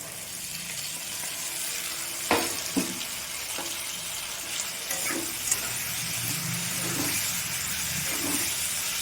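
Ginger-garlic paste sizzles and fries in a pan with softened tomatoes, a steady hiss broken by a few sharp clicks of a spoon against the pan.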